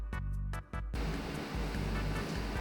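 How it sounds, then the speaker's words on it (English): A steady, rushing roar of water at a rolling boil in a pot, with a brief gurgling, bubbling stretch at the start before the dense, continuous churn. "the water is boiling"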